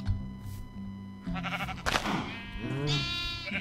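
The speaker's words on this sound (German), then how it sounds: "Oder waren das die kleinen Schafe?" Sheep bleating in the Minecraft video game, a few short wavering bleats in among soft game thuds and background sounds, with a voice speaking faintly in places.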